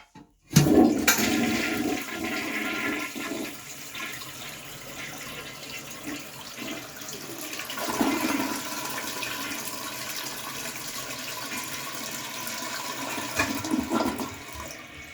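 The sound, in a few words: 1961 Kohler Wellworth toilet flushing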